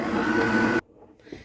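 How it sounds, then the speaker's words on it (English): An electric whisk or mixer beats egg and vanilla essence for cookie dough, a steady motor whine with a bright buzzing tone that cuts off abruptly partway through, followed by faint bowl sounds. "And then I'm going to whisk them up as well."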